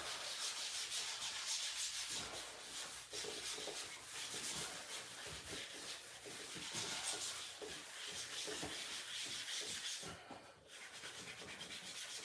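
Steady rhythmic rubbing and buffing of hot wax on a Capita Mercury snowboard base, a soft continuous scrubbing texture with regular back-and-forth strokes, close and fairly quiet, no voices.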